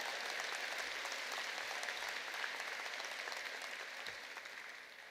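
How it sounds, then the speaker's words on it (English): Sustained applause from a convocation audience, a dense steady clapping that fills the space for the full stretch and eases slightly toward the end, with no voices over it. "Yeah, you can applaud for that."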